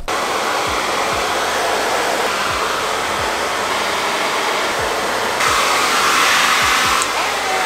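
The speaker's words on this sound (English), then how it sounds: "So I'm gonna do a little bit of diffusing, and I'll probably sit under my hooded dryer" A hair dryer with a diffuser roars loudly and steadily, its airflow shifting slightly partway through, with soft thumps of movement underneath.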